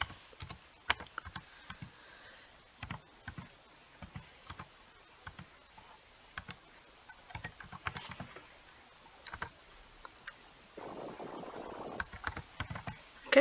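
Quiet keystrokes on a computer keyboard as a library card number is entered, scattered single taps and short bursts, with a brief soft rustle near the end.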